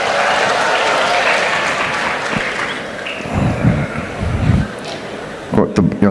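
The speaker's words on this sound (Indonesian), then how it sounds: "yang tepuk tangan" Sustained audience applause fills a school inauguration ceremony in Indonesia, the president opening new community schools, with steady dense clapping that swells briefly near the end while a voice speaks over it.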